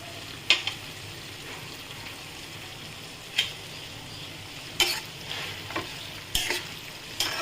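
A pan of fig curry with ghee and shahi garam masala is stirred over a faint, steady sizzle, with sharp scraping clinks at irregular intervals and no talking.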